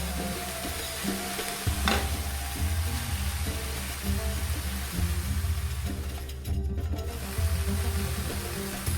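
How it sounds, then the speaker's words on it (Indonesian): Leafy greens stir-fried in a pan for Persian Ash Reshteh, a loud continuous sizzle broken by repeated scraping strokes of a stirring utensil, close up and steady throughout. "jadi untuk menghilangkan rasa pahitnya itu kita tumis dulu sebentar ya"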